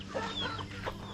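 Turkeys on a hobby farm in the Philippines, let in and out through an opening, give short clucking and gobbling calls over a low background hum, close by and moderately loud.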